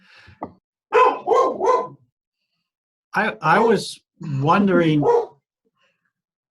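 A dog barks at the mailman in two short bursts of three, followed by a person speaking close by.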